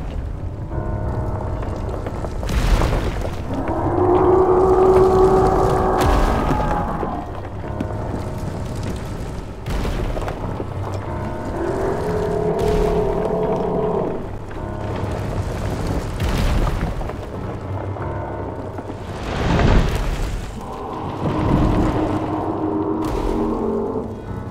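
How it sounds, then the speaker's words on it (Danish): A volcano erupts in Zelda: Breath of the Wild with repeated deep booming rumbles rising and fading in waves, punctuated by sharp blasts, loud and alone without talking. "Går rundt og får vulkanen til at eksplodere"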